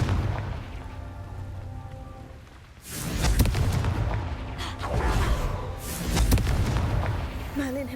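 Confringo fire spell explosions in Hogwarts Legacy, a pair of loud booming blasts with crackling, rumbling tails that burst in after a quieter stretch of game ambience with music.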